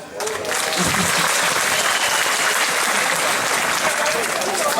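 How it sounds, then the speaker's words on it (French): Audience applause at a public meeting, a loud, continuous roar of clapping from a sizeable crowd that holds steady throughout with no talk breaking through. "au moins applaudissons pour cela"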